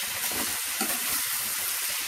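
Onions and tomatoes sauté in a pan for Kerala-style chilli chicken, giving a steady, close, broadband sizzle with faint stirring scrapes throughout and no talking.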